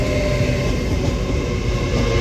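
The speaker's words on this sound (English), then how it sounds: "805006 heads out on an ECS movement" A Class 805 train, unit 805006, pulls out of Crewe station on an empty stock movement, its steady loud rumble and rolling wheel noise continuous throughout with no voices.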